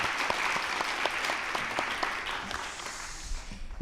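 A church congregation at a Sunday afternoon worship service claps in encouragement, a brisk, even round of applause that carries for a few seconds and then starts to thin out toward the end.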